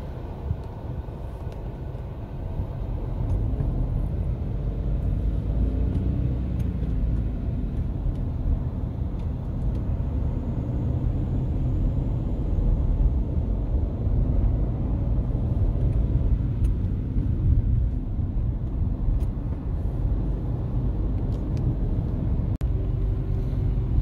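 A car pulls away from a stop and rolls downhill on first gear during a driving lesson, a steady low engine and road rumble heard from inside the cabin throughout, with no talking.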